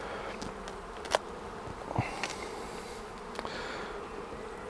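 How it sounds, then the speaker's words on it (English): Honey bees in a hive super make a steady, close-up buzzing drone, broken by a few brief clicks and knocks. "Lots of bees up in the super"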